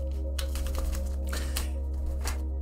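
Tarot cards shuffled by hand, a rapid series of crisp riffling flicks and slaps over a constant low electrical hum, with no talking.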